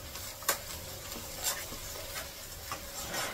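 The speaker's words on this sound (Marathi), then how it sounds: "आता हे मी या फोडणीमध्ये चांगले हे जे वाटण केले ते परतून घेते." A ground spice paste with turmeric is sautéed in hot oil over high flame, a continuous soft sizzle broken by several sharp stirring scrapes of a spoon against the pan.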